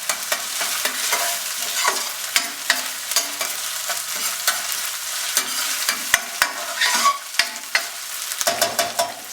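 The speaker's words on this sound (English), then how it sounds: "You can get a lovely smell of ginger and garlic roasting in the pan along with fried onions." Ginger, garlic and onions sizzle in a pan for a pork, beef mince and potato curry, a continuous crackling fry broken by frequent sharp scrapes and clicks of stirring, close and lively.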